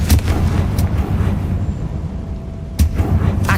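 Confringo spell blasts in Hogwarts Legacy, loud booming explosions with heavy low rumble, hitting in bursts near the start and again near the end over a continuous roar of combat.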